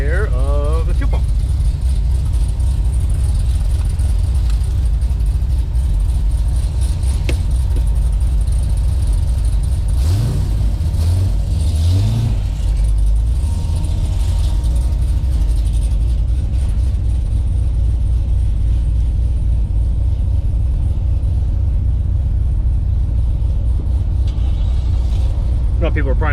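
An HCI-tuned Corvette C6 Z06 engine drones steadily from inside the car while driving, with a loud low rumble throughout and a brief rising rev around the middle.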